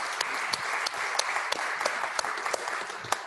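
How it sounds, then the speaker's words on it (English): A crowd applauds steadily, a dense patter of many hands clapping together that carries through the whole moment without letting up. "Let's give her a round of applause."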